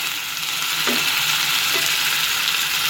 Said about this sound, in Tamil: நல்லா வதங்க ஆரம்பிச்சிச்சு வந்து நல்லா வதங்கணும்